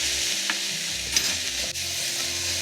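Onion mixture sautéing with salt and turmeric in a pan for Kuttanadan-style Kerala duck curry, with a steady loud sizzle, soft scraping stir strokes and a low humming tone beneath, and no voices.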